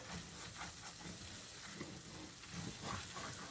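Sweet vermicelli is stirred in a pan, giving a soft, continuous sizzle with faint scraping strokes of mixing, quiet and without talk.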